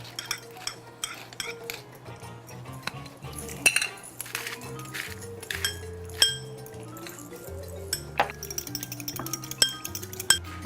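White wine vinegar dressing for a seared scallop and lardon salad being mixed with a utensil in a bowl, giving a steady run of close, bright clinks and taps for about ten seconds with no talking.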